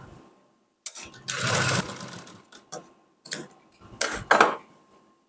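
A sewing machine stitches fabric while a garment's chest seam is sewn, running in two loud close bursts of motor whir with short pauses and softer clicks between them.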